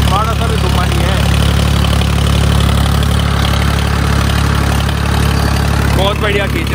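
A Ford 3600 tractor engine runs at low rpm during harrow testing, a loud, steady, close diesel drone throughout, with someone talking over it.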